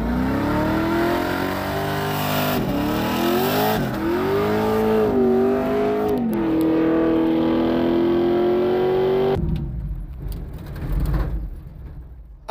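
A car holds a burnout: the engine revs hard and climbs, drops, then sustains a high steady whine with hissing tire noise, before cutting off into a rough, fading rumble near the end.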